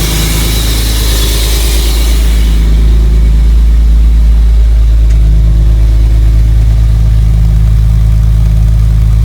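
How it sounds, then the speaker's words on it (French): A BMW E30 six-cylinder engine, which had been running rough, idles loud and close with a steady low drone, and a rough, rumbling edge in the first few seconds. "Et ça a l'air de tourner sur les 6 cylindres."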